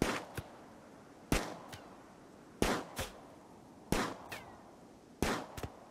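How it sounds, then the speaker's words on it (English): Gunshots in the video game RimWorld during a raid on an ice sheet, five evenly spaced sharp reports each followed by a quick softer echo or second shot, fairly quiet and with no talk. "Cambiar is now about to start shooting"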